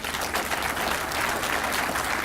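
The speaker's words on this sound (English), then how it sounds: "A big round of applause for them," A crowd at a Queen's Birthday Party reception applauds the sponsors after a speech, a dense, loud and continuous burst of clapping close at hand.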